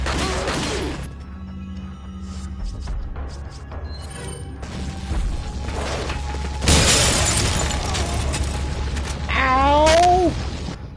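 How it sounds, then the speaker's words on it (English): Glass explodes in the video game Resident Evil 4 with a loud bright shattering burst midway through, amid creaks and mechanical game noises, and a rising warbling effect follows near the end. "That glass explosion was a bit louder than I anticipated."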